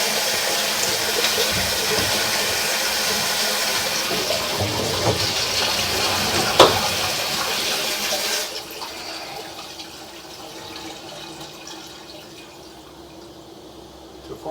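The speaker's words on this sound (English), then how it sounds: "Go ahead and flush that toilet again." A flushed toilet roars as water rushes through the drain pipe, loud and steady for about eight seconds, then drops to a quieter trickle as the tank refills.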